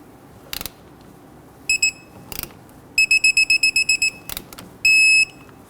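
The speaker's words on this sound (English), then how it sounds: "Torque down your banjo bolt to 21 foot-pounds." Torque wrench tightening a brake caliper banjo bolt on a 2011-2015 Kia Sorento: an electronic beeping tone in short repeated pulses ending in one long beep, mixed with a few clicking ratchet sounds.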